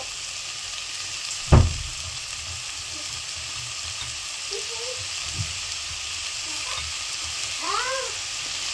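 Onions sauté with salt for a prawn gravy, giving a steady close sizzle broken by a sharp clank of the spoon against the pan early on, while faint cat meows drift in near the end.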